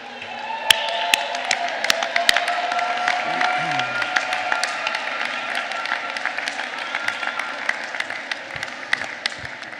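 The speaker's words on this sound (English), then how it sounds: "give them a round of applause" Audience applause fills an auditorium at a spring commencement ceremony, steady clapping with scattered sharp claps and some cheering sustained throughout, loud and close.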